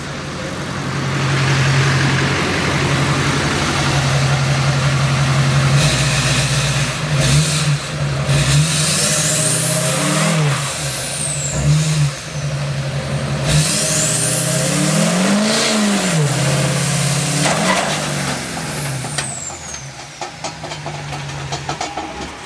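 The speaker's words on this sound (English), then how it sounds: "I'm gonna kind of just give it a little gas and see what happens." A car engine idles steadily on a wide driveway, then revs up in several rising and falling bursts as the throttle is pressed, loud and close, with no talking.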